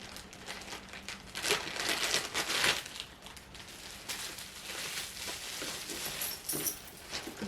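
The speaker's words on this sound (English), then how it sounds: "Bear with me as I unwrap it." Jewellery packaging is unwrapped close by, with soft crinkling and rustling of wrapping in irregular bursts, a few louder crackles standing out against a quiet room and no talking.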